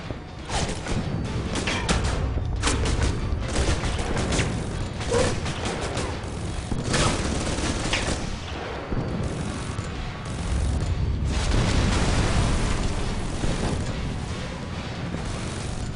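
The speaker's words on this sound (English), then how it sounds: "Okay, time for a grenade" A grenade explosion in the video game Alpha Protocol, heard as a loud, dense roar of broadband blast and debris noise that keeps rumbling and crackling through the whole stretch, with no voices.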